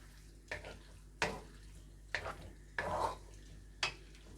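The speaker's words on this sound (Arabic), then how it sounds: "ونقلب كده كل الحاجات دي كده مع بعضها" Chicken, pasta ingredients and hot pepper are stirred together in a pan, giving five or six distinct scraping, clinking strokes over a faint low sizzle, close and alone.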